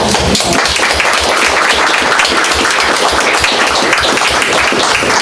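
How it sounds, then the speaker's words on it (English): A room of people at a board meeting claps for an honoree, steady dense applause holding at an even level from start to finish. "we'll clap for him"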